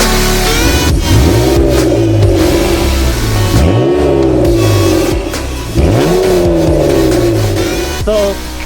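A 1995 Acura NSX engine revs hard and close in repeated rising and falling sweeps, loud and mechanical with no talk over it.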